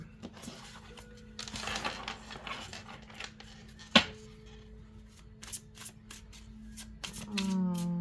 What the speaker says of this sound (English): So let's shuffle one more time there.